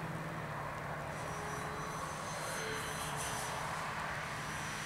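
An E-flite Air Tractor RC model plane runs its electric motor during takeoff, a steady loud whine and rushing drone that holds throughout without pause.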